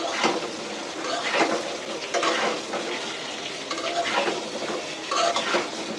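Pointed gourd pieces hit hot oil in a pan, a loud sizzling hiss with scraping stirs and utensil clatter coming in bursts, close to the microphone.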